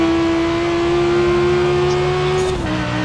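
Car engine in the racing game Forza Horizon 4, a 1995 car held at a loud, steady high-rpm drone that dips briefly near the end as it shifts, then carries on.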